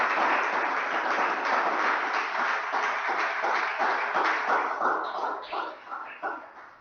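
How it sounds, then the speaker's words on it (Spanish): A church congregation claps together in a dense, sustained burst during a Spanish-language worship service, then the applause thins into scattered individual claps toward the end. "Le damos un aplauso al Espíritu de Dios"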